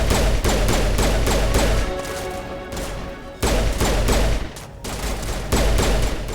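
Sustained automatic gunfire from the video game Mass Effect 1, loud, dense bursts that pause briefly and resume several times, with no talk over it.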